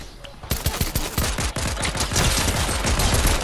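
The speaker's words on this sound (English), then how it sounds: "We got shooting to the west" Rapid, continuous gunfire in Fortnite, with dense bursts of loud automatic shots that keep going without a pause after a brief quiet start.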